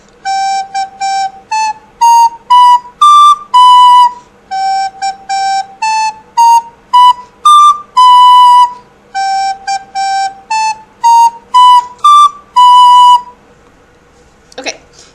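A recorder plays a quick, bouncy melody of short, clear piping notes in repeated phrases, loud and close, with a brief pause before a final thump.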